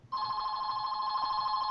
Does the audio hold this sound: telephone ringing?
yes